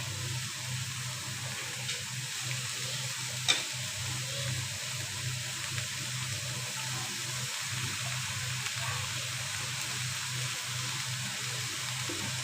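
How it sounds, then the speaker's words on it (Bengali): Onion and green chili frying in oil in a pan, a steady close sizzle and crackle lasting throughout, with one sharp click partway through and no talking. "এখন এটাকে কিছুক্ষণ ফ্রাই করতে হবে"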